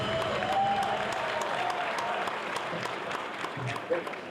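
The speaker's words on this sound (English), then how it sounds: "Can we give another round of applause?" Audience applause fills a town hall meeting held by the Labour Party, a steady wash of clapping from a large crowd, fairly loud and continuous throughout, with some voices mixed in.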